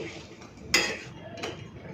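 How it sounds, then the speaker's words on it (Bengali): A metal lid clinks down onto a cooking pot of meat and potato curry, two sharp clanks about half a second apart over quiet kitchen background. "এরপরে আমি ঢাকা দিয়ে দিচ্ছি পাঁচ মিনিট মতো এইভাবে রেখে দেবো"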